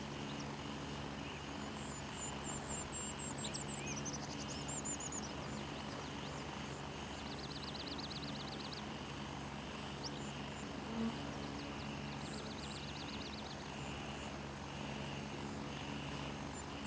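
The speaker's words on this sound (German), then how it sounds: "Hört man keinen mehr, außer diesen scheiß Hubschrauber." A helicopter flies in the military shooter game Gray Zone Warfare, a steady whirring rotor drone filling the background throughout, with faint bird chirps above it.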